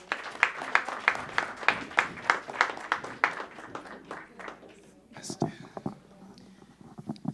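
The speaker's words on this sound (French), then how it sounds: "On applaudit Vincent." Congregation at a Primitive Church of Ottawa praise and testimony night claps in a brisk, regular rhythm for about five seconds, then the clapping breaks off and quiet voices and scattered sounds follow.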